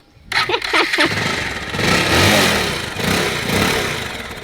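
A motorcycle engine fires up and runs close by, a loud steady rumble that swells and eases in a few light revs, with no talking over it.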